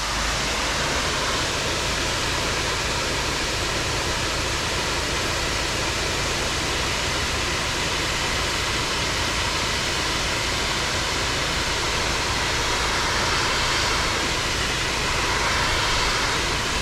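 Steady broadband hiss of a pressure washer spraying through a regular rinse tip during a cleaning job, a continuous loud rushing spray with no breaks and no talking.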